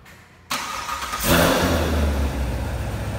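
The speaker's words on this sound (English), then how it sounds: "Now that's nice. Remote start." A 2016 Corvette Z51 2LT V8 starts by remote start after a short pause: a sudden crank and catch, a loud rising rev, then a deep, steady idle rumble with no talk.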